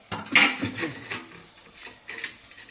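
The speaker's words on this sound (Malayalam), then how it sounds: "ഈ എണ്ണയിലേക്ക് ചതച്ചു വെച്ചിരിക്കുന്ന പച്ചമരുന്നിട്ട് കൊടുക്കാം" Crushed guava leaves, curry leaves and black cumin are tipped into coconut oil in a pan. A few light metallic clinks and clatters sound close by, then fade to quiet. No talking.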